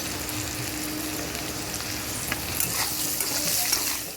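Spice masala of coriander and chilli powder, ground ginger-cumin paste and chopped tomato sizzles steadily in a pan for a pointed gourd curry, a close, continuous frying hiss with stirring scrapes.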